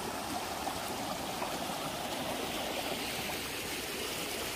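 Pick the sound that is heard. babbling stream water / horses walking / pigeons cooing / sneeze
babbling stream water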